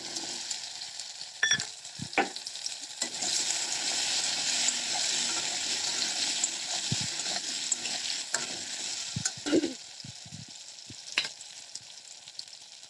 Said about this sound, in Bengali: টমেটোটা এত ভাজা ভাজা হয়ে যাচ্ছে। এখন আমি দিয়ে দেবো এখানে আলু।